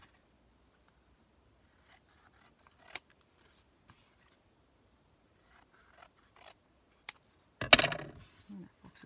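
Scissors snipping paper while trimming a folio, a few faint scattered cuts followed by a louder cluster of rustling snips near the end, close and otherwise quiet.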